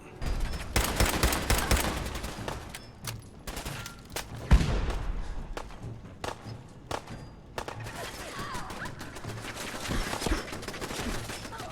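Repeated gunfire in a fight against raiders in Fallout 4, bursts of shots and sharp single cracks in uneven clusters, with one heavy thud midway and brief quieter gaps between volleys.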